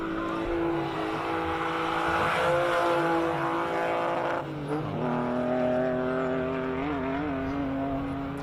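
Classic race car climbing a hill at speed, its engine note rising and shifting as it accelerates with the wheels spinning through the gears, loud and close with one gear change midway.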